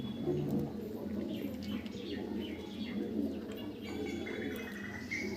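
Tournament match-racing pigeons in a collection keep up low, overlapping cooing throughout, close and continuous, with a few faint chirps above.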